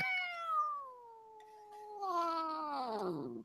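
A cat lets out a long, drawn-out meow that slides downward, followed by a second wailing, caterwauling meow, close and clear with no talk over it.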